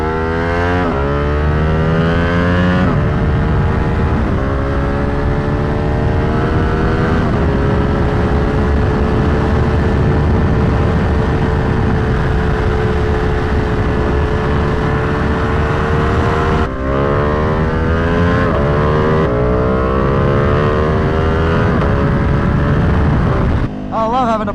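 A tuned Ducati Panigale V2 rides along a street, its engine droning loud and close with rising revs, gear shifts and repeated throttle surges and drops throughout.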